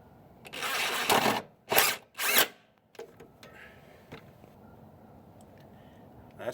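A power tool bolts up rear sway bar bushings and end links on a Jeep XJ, firing in three loud whirring bursts of about a second each, followed by quieter clicks and handling noises.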